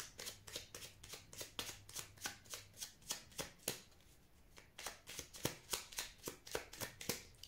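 Oracle cards shuffled by hand in a steady run of crisp, riffling bursts, close and clear, with a brief pause midway before the rhythmic shuffling resumes, no talking.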